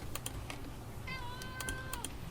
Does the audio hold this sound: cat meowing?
yes